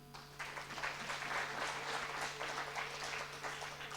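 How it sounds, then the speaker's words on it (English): An audience at a learning event on access to finance and credit guarantees applauds, a dense, steady patter of many hands that holds evenly for the full stretch over a low, constant electrical hum. "I think we should give them a clap"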